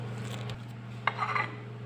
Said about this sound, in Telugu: అన్నీ బాగా మిక్స్ చేసుకోవాలి